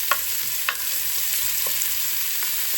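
Ingredients for green chili stew being sautéed in a pan on the stove, a steady soft sizzle with a few light clicks of stirring, alone with no voices.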